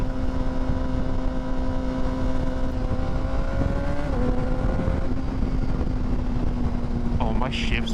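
A motorcycle ridden on a cold day, its engine drone loud and close with steady wind rush, the pitch dropping and settling as gears shift partway through.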